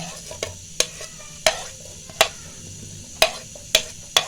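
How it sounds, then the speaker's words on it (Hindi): Onions hitting hot oil in a pan, with a soft sizzle beneath a series of sharp, evenly spaced clicks and taps of a utensil against the pan, close and fairly loud, no talking. "ऑनियंस को हम गोल्डन फ्राई करेंगे"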